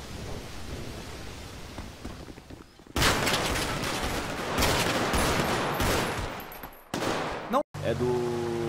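Gunfire erupts in GTA V, a dense burst of loud shots after a quieter stretch of low rumbling, then breaks off abruptly before resuming briefly.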